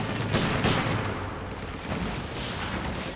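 Sniper shots and gunfire rattle in a Company of Heroes 2 match, with dense overlapping bursts, booms and crackling volleys that keep going throughout at mid distance, loud and busy.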